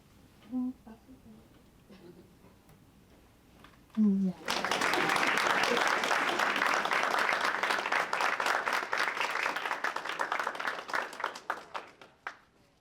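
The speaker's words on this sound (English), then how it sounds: "Let's give them another round of applause" After a few quiet moments with a brief voice, an audience at a university presidential portrait unveiling breaks into loud, sustained applause that carries on steadily for several seconds before gradually fading.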